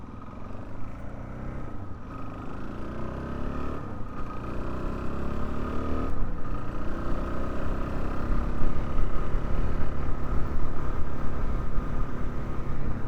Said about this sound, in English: We can hear a lot of tire noise on my DR-Z400.